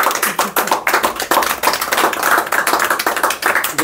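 A group claps at a celebration for an IVF training course, with brisk, uneven hand claps repeating close by throughout, no talking.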